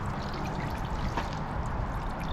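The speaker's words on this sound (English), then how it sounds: "It's throwing air, it's throwing water, it's pushing it." A small solar-powered water fountain nozzle sprays water in a faint, continuous splashing trickle, with no one talking.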